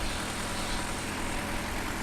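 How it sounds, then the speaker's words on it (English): An old-style tractor engine from Farming Simulator 2015 idles with a steady, low, even rumble, with no talk over it. "But it's not a bad little tractor."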